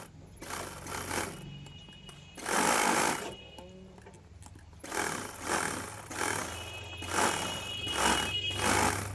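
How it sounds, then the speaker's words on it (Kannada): Sewing machine stitching the back side of a frock made from an old border saree, running in several short bursts of rapid whirring with pauses between, close and fairly loud. "ಇವಾಗ ನಾನು ಬ್ಯಾಕ್ ಸೈಡ್ ಸ್ಟಿಚಿಂಗ್ನ ಮಾಡ್ಕೊತೀನಿ."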